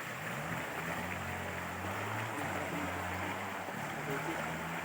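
A waterfall and river on rural land in Real, Quezon give off a steady, faint rushing wash that holds evenly throughout, with a soft low rumble and a person talking over it at times.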